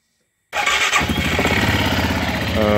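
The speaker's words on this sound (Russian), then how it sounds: "Заводим квадроцикл." A Stels Leopard quad bike engine starts abruptly after a moment of silence, catching at once and settling into a steady, loud, close-up idle.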